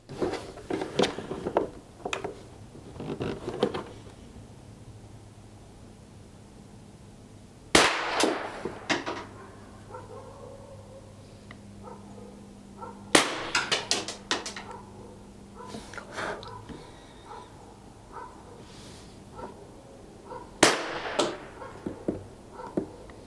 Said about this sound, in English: we're going to take 5 shots at the target up there. It's a semi-auto.